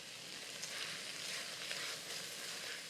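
Paprika, oregano, cumin and pepper flakes sauté in a pot, giving a steady soft sizzle that holds evenly throughout with no voices.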